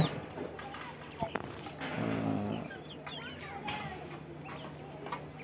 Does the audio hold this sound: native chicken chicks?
yes